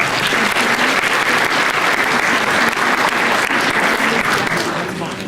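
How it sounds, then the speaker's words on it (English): A school assembly audience applauds in a loud, dense, continuous wash of many hands clapping at once, sustained at a steady level for five seconds. "So we can give ourselves a round of applause for that."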